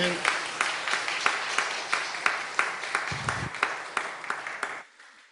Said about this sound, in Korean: 하나님께 귀한 박수 올려드렸습니다.